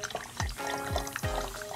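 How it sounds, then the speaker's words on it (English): Water is poured into a funnel during a simple kids' science experiment, heard as a few short splashing pours in quick succession, close and fairly clear. "put the water in"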